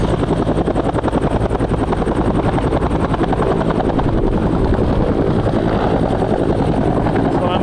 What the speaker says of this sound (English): Assuming this chopper here is some kind of a reconnaissance chopper